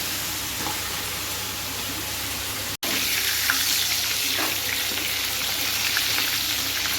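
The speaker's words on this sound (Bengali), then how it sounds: "একটু লাল লাল করে ভেজে দিব মাংসগুলো সবগুলো।" Chicken pieces dusted with turmeric fry in oil in a pan until reddish-brown, giving a dense, even sizzle with soft crackles that runs steadily, apart from a momentary cut just before the midpoint.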